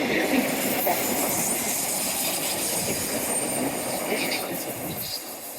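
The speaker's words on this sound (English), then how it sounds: "Hello, train number 2." A train rumbles past near Teignmouth station on a hot day, a steady loud roll of wheels on rails with some wind noise, close and continuous throughout.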